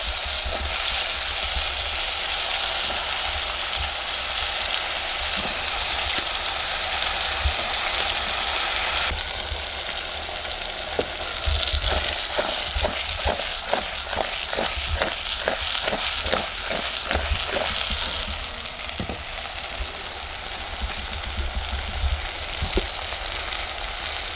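A brinjal curry with green masala fries in a pan, giving a loud, steady sizzle throughout, with a rapid run of stirring scrapes near the middle and the hiss easing slightly toward the end.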